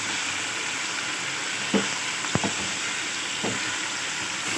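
Mutton sizzling as it fries with onions in a karahi, a steady broadband hiss throughout, with a few brief scraping stirs and clinks near the cooking close by, no talking.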